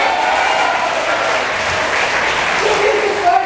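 A church congregation applauds at a Hong Kong worship service, a steady wash of clapping that holds evenly for the whole stretch without pause.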